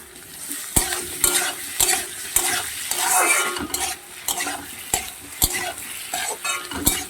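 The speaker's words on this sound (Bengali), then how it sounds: "এক চামচ রসুন বাটা ভালো করে ভাজবো" A spoonful of garlic paste frying in a pan, loud close sizzling broken by rapid, repeated clacks and scrapes of a stirring utensil.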